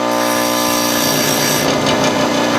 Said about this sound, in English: I've just broken this file off. I'm grinding it basically flat.